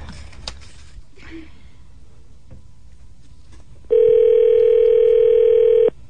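A telephone tone sounds on a call: after a few seconds of quiet room noise it rings as one loud, steady electronic tone for about two seconds, then cuts off abruptly.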